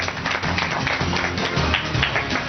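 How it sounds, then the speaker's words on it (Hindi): An audience at a Hindi talk show claps to welcome a guest, a short burst of dense, steady applause at moderate level with no speech. "भरपूर तालियों के साथ राखी जी का इस्तकबाल करते हैं।"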